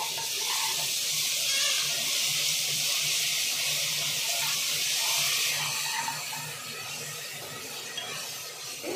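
Ginger garlic paste frying with browned onions in a pan for a Bhai-style kushka, a steady loud sizzling hiss that runs unbroken and eases slightly toward the end.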